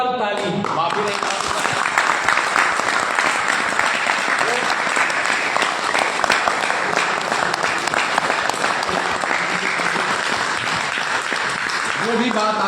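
Loud, dense applause from a large audience at a speech event, steady clapping filling the whole stretch from start to finish without letting up.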